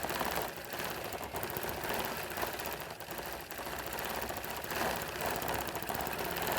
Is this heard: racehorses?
no